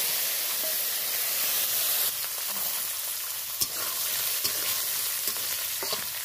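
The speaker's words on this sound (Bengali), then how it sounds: "দেখো ছোলাটা একটু নেড়ে নিয়েছি" Chickpeas fry with spices in hot oil, giving a loud continuous sizzle and hiss. Scattered clicks and scrapes from stirring sound close by.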